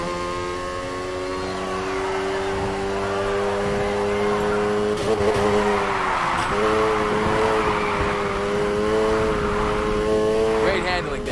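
A car drifts in Need for Speed Heat with a steady high engine drone whose pitch dips and climbs as it slides, tire noise swelling midway, with a voice speaking over it.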